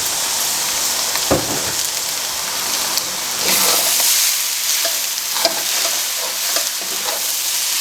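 Mie goreng noodles with dark soy sauce stir-fry in a hot pan, a loud steady sizzle with repeated scraping and tossing strokes, close up.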